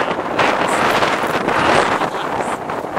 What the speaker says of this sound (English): the wind outside the window feels great